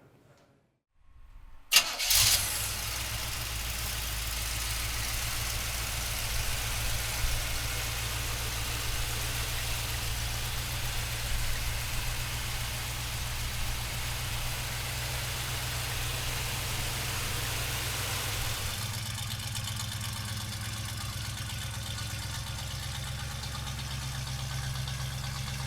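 A 1971 Chevrolet Blazer with a 350 V8 cranks and fires after a short silence, then settles into a steady, loud, close idle with a low rumble that holds for over twenty seconds, with no talking.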